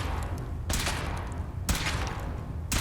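Power armor suit test in Fallout 4, with a weapon discharging in three loud, heavy blasts about a second apart over a steady rumbling background.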